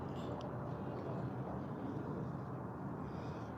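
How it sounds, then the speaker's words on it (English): A jet aircraft passes unseen overhead outdoors on a hot day, heard as a steady, broad, distant roar that holds evenly for the whole stretch with no voices. "Why does it sound like a jet?"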